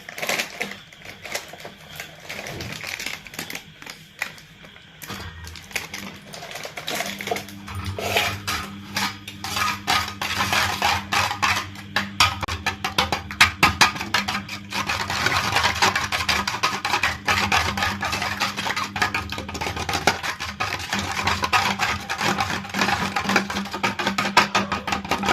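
A utensil briskly beats egg batter seasoned with salt and pepper in a bowl for bread omelette, producing rapid, continuous metallic clinking and scraping that starts softly and becomes loud and steady after several seconds, with no voices.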